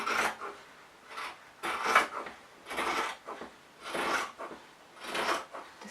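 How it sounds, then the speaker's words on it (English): Scissors snipping thin strips across the hem of a cotton t-shirt, a close, soft rasping cut repeated about five times in a steady rhythm, each stroke lasting under a second with quiet gaps between. "I'm going to cut thin strips running all the way across."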